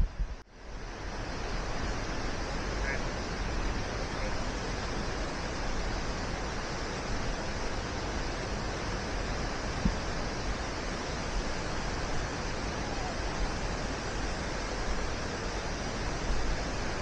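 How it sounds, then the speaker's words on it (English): Agate Falls cascades roar as a steady, unbroken rush of falling water close by, a broad wash of white noise that holds level throughout with no voices. "Beautiful set of cascades here."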